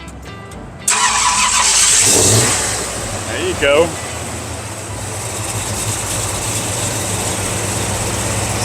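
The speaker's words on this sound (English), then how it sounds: "he's gonna start up this 390 Ranchero" A 1967 Ford Ranchero with a 390 engine cranks and fires up at a car show rod run, then revs briefly and settles into a steady idle, with a voice speaking near the start.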